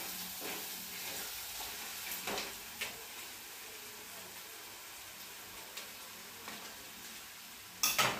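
Onion with ginger garlic paste fries in a pan with a soft continuous sizzle, punctuated by occasional stirring scrapes and a louder clatter at the end; no talking.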